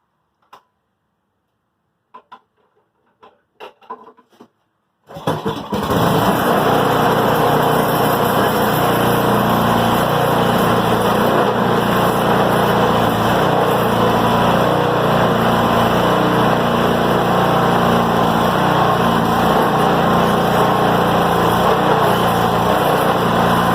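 A Craftsman 26-inch snow blower engine roars to life after a few quiet clicks and handling noises, then runs loud and steady at high revs, close by, with a faint ticking rhythm.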